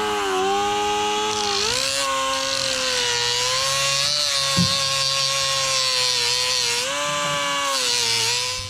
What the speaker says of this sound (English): Take our lovely die grinder.